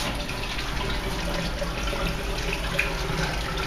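Steady rushing water flows continuously at a constant level through a Fulton boiler's blowdown valve into the blowdown tank, like a tap running full, with no talking.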